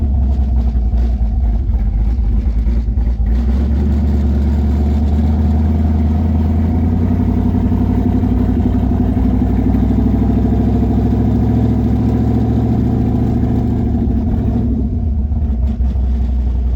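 A 5.3 LS V8 in a 1996 Mustang runs steadily and loud with a deep, continuous engine drone, the idle wavering slightly as the mixture leans out and then smooths back, with no voices over it.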